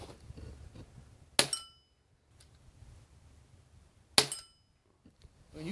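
Two sharp, quiet cracks about three seconds apart from .22 CB rounds fired through a shotgun with a short lane adapter, each a brief muffled pop followed by stillness.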